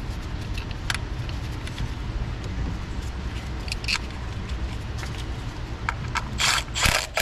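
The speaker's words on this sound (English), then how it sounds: "3 more bolts. It's gonna lock these down." A ratchet tightens bolts on a Toyota 3.3 V6 AWD engine, giving a close, steady clicking ratchet rhythm over a low background hum, with a louder burst of clicks near the end.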